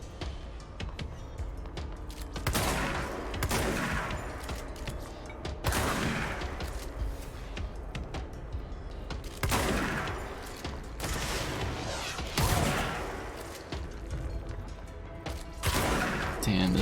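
A powerful gun firing repeatedly in the video game Control, heavy booming shots in irregular bursts spaced a few seconds apart, each with a rumbling tail, with occasional speech in the background.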